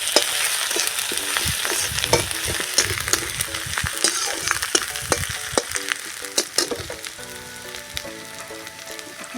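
Ginger fries in hot oil with a loud, close crackling sizzle broken by sharp stirring clicks and scrapes, the sputtering gradually thinning toward the end.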